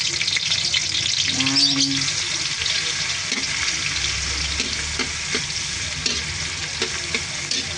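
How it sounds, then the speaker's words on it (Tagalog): Garlic and onion sauté in a pan while cooking pancit bihon, a continuous close sizzle with stirring scrapes, a short tonal clink near the start and a brief spoken word. "Una po muna, gigisa ako ng bawang."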